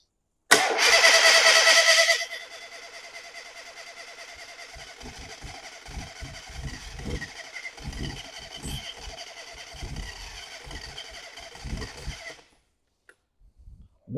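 Classic Mini engine cranking and catching with a loud burst, then settling into a steady, uneven idle with rhythmic low thumps before cutting out.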